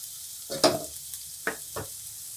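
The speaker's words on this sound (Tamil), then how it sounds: "எண்ணெய் காஞ்சதும் ஃபஸ்ட்டு பொடலங்காவை போட்டு லேசாக வதக்கிட்டோம்" A few quiet bursts of sizzling as chopped snake gourd hits hot oil and gets stirred in a pan, with brief pauses between.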